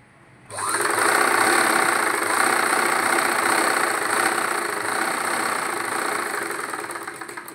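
A sewing machine runs steadily while stitching the bottom hem of a Punjabi pant, a continuous close whirring drone that starts abruptly after a brief quiet moment and holds for several seconds without talk.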